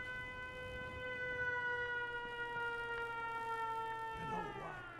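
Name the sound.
settlement siren sounding in the video game Fallout 4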